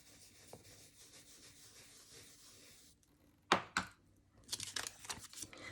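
A stencil brush dabs ink onto a stencil board for decorative boxes in a circular motion, giving soft rubbing and scrubbing sounds followed by a few sharper close taps and bursts of brushing.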